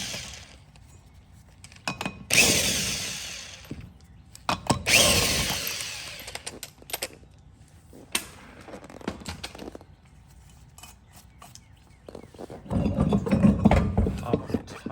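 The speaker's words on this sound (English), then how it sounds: "I'm going to take these lug nuts the rest of the way off." Power tool spinning lug nuts off a Kawasaki Mule SX wheel hub in several loud bursts with ratcheting whirs, separated by quieter handling clatter, close by.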